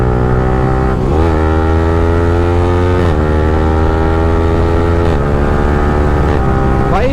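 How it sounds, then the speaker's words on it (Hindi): A modified Yamaha R15 M sport motorcycle with a loud aftermarket exhaust holds a steady, droning engine note, rising and dipping with quick gear shifts about every two seconds, close and loud throughout with no talking. "ये जो आवाज़ है मेरे दिमाग में लड़ता रहेगा। ऐसा इसका साउंड है भाई।"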